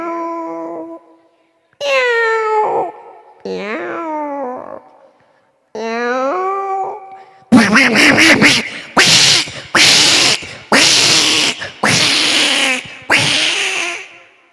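A voice imitates two cats fighting, performed at a school anniversary programme: drawn-out wavering yowls and meows, then a rapid series of harsh, loud hissing spits and snarls.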